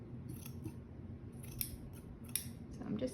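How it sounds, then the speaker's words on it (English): Scissors snip through cloth to cut it into strips. A few sharp, close cuts come at irregular intervals over a low, quiet background. "I'm just going to cut it in strips here."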